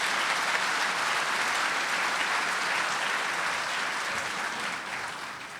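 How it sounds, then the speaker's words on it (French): An audience at a mayor's New Year reception in a town hall gives municipal police officers a sustained round of applause, a dense, even wash of many hands clapping that holds steady throughout and eases slightly at the end. "Je crois qu'on peut les applaudir parce qu'ils font vraiment un travail remarquable."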